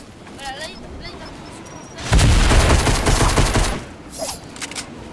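Gunfire in Fortnite during a competitive match: a loud, dense burst of rapid shots lasting a couple of seconds, with lighter shots before and after, under a commentator's voice.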